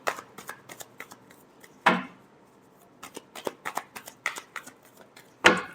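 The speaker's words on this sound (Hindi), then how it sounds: "Last shuffle." Tarot cards shuffled by hand, a close, quiet series of soft riffling flicks with two sharper snapping riffles.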